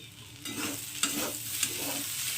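Potatoes frying in a pan with salt being stirred in, a steady close sizzle with rhythmic scraping strokes of a spatula and a couple of sharp clinks against the pan.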